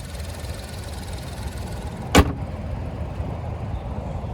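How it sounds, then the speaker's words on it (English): Semi trucks rumble past on an interstate highway in a steady broadband roar, with one brief sharp click near the middle. "these 18-wheelers are just making so much noise going down this interstate here"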